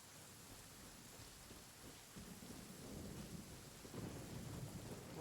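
Thunderstorm in the video game Genshin Impact: soft, steady rain hiss with low rolling thunder rumbles building over the last few seconds, no voices.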